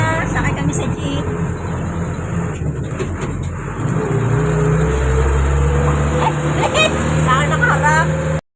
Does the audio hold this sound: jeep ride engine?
yes